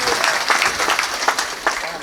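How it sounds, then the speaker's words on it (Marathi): Applause from the audience at a Marathi village kirtan held as a memorial gathering: steady clapping from a modest crowd, with a voice speaking over it. "टाळ्या वाजवा"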